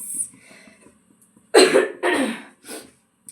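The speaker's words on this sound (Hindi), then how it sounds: "खांसी आ गई थी।" A woman coughs three times in quick succession in a home kitchen, close and fairly loud, after a faint breath, with quiet pauses between the bursts.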